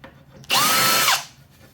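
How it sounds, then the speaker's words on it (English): A power drill bores a hole for mounting a 40 amp relay on a mower controller retrofit, a single loud whine lasting under a second with a rising then falling pitch. "just drilling a hole here so we can mount this 40 amp relay"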